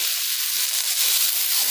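Boiled potatoes and onions frying in a pan give off a steady, close sizzling hiss that holds even throughout without a break.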